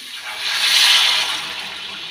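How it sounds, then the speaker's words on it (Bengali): Hot water poured into a cauliflower and potato curry cooking in a pan, a steady close rush of splashing liquid that swells and then eases over about two seconds. "তো এখন দিয়ে দেবো গরম জল, এই যে গরম জল করে রেখেছি"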